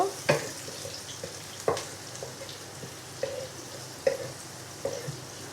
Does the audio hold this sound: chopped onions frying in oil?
yes